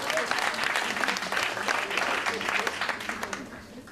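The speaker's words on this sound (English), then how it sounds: "Give them a round of applause one time." Steady audience applause fills a hall at a Caribbean business forum, a dense continuous patter of many hands clapping at moderate loudness throughout.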